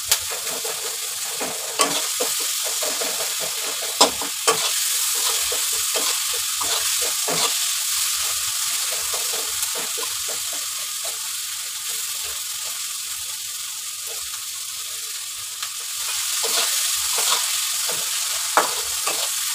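Chopped onions and whole chillies fry in a pan with a continuous, bright, crackling sizzle that holds steady for the whole stretch, with occasional pops and light stirring taps.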